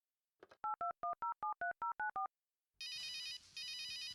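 A telephone is dialed in the adventure video game Runaway: A Road Adventure: nine evenly spaced keypad tones beep in quick succession, then after a pause come two long ringing tones, all clear with no voices.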